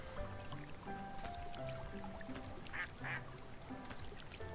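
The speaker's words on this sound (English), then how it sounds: "Hey, ducky duck." A cartoon duck quacks several times in the Kynseed video game, short bright calls scattered over a bed of gentle game music, close and fairly quiet, with no speech.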